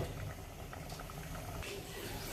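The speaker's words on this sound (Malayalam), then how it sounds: "കറിയൊക്കെ വെന്ത് തേങ്ങ അരച്ച് കൊടുക്കുകയാണ്" Crab curry bubbles away after roasted ground coconut is stirred in, a soft, continuous simmering burble with scattered small pops, close and fairly quiet.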